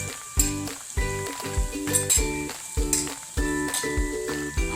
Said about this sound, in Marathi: हळद टाकायची आहे अर्धा चम्मच दोन चम्मच तिखट टाकायचं आहे हे सुद्धा आपल्याला छान परतून घ्यायचं आहे